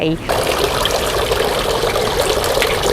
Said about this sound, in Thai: ก่อนเข้าวัดนะล้างมือล้างปาก